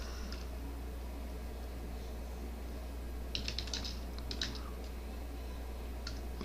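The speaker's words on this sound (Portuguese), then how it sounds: "Eu vou digitar aqui com vocês" A computer keyboard typed on during a Windows 10 lesson: faint, sparse key clicks in short bursts over a steady low hum, with no talking.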